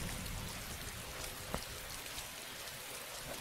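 Heavy rain pouring down in the video game DayZ, a dense, steady hiss of falling water that fills the scene, with one brief knock partway through.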